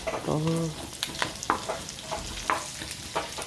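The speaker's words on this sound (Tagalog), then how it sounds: "Gigisa na tayo. Ulit. Ayan, bawang." Garlic sizzles in hot oil in a pan while being sautéed for a pork and vegetable dish, a steady close frying hiss broken by scattered clicks of stirring, with a brief voice near the start.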